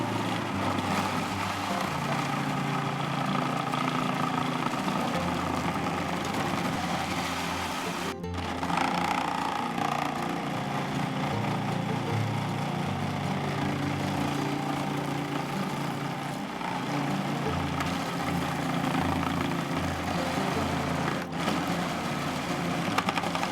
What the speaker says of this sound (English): it's gonna save me a lot of work grating this cheese